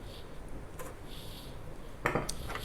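Ogura cake batter scraped from a mixing bowl, with soft scuffs early on and a louder burst of clattering scraping near the end, close by and without talk.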